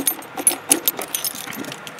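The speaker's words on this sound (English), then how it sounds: "See if I can get my keys to unlock it." Keys jangle and clink in a rapid, irregular flurry of bright metallic rattles while being used to unlock the outdoor shower on a Northern Lite 9-6 truck camper. The sound is close and fairly loud, with no voices.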